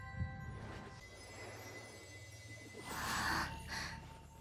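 Heavy, drawn-out breathing from a female character in the video game Genshin Impact, a gasp-like breath near the start and a louder breathy swell later, under a faint hum of game background audio.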